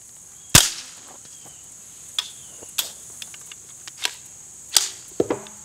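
.22 Winchester rounds fired through a CGS Group Hydra suppressor give sharp, quiet cracks, one strong and several lighter, spaced irregularly at close range with no talking.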